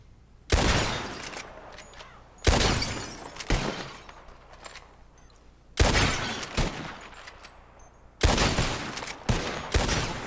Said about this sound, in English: Who can shoot the most bottles? Just draw your gun and aim when you're ready, all right? Shoot!